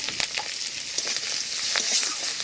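Hot fish oil sizzles and crackles in a pan, a steady close frying hiss dotted with sharp pops and spatters.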